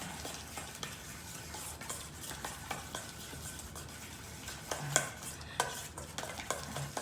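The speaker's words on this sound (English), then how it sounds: "Now I'm going to mix all that together to form a paste." A spoon stirs a wet paste of herbs and extra virgin olive oil in a bowl, giving soft squelching scrapes and irregular clinks against the side, close and fairly quiet.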